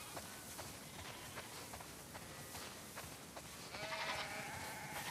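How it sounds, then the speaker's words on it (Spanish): Flock of sheep in The Last of Us Part II, faint scattered bleats over soft shuffling hooves and ambient outdoor noise, with a brighter cluster of calls near the end. "Vaya, son muchas ovejas."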